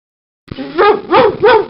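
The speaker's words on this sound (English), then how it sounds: "There's a dog in the waiting room with an itchy problem." A cartoon dog in an educational hospital game gives three quick close barks in a row after a brief silence.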